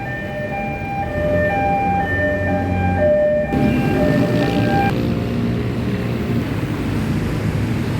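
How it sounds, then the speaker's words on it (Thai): A Bangkok MRT Blue Line train passes on the elevated bridge at the Fai Chai intersection, its motors whining in rising and falling tones before a loud, steady rush of wheels and wind takes over. "ก็มาแล้วนะครับ อีกหนึ่งขบวนนะ ที่มุ่งหน้าไปทางท่าพระ"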